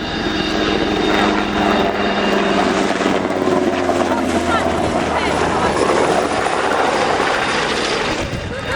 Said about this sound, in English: Industries NH-90 TTH, Tactical Transport Helicopter